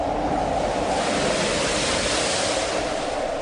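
Stormy wind and waves sweep over a lake as a continuous loud rushing roar with no pauses.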